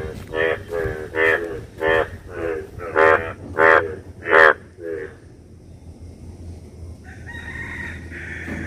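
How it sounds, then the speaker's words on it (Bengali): Hulo frogs call near water, a run of about eight loud, evenly spaced croaks that then give way to a fainter background. "ব্যাঙের ডাক দেখি জানেন না আমি শব্দটা নিব এখানে বেশ কিছু ব্যাঙ আছে"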